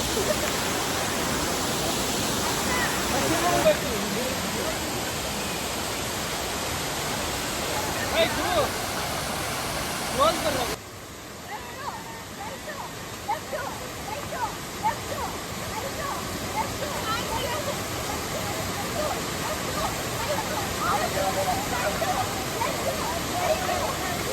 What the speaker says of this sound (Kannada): ಕ್ಯಾತನ್ಮಕ್ಕಿ ಹೋಗೋ ಜಾಗದಲ್ಲಿ ಒಂದು ಫಾಲ್ಸ್ನ ನೋಡಿದ್ದೀವಿ